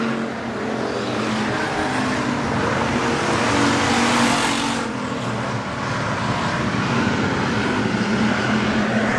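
Hobby stock race cars lapping the dirt oval at Nobles County Speedway, with a continuous loud roar of engines that swells as cars sweep past and hints of tire scrub, and no talk.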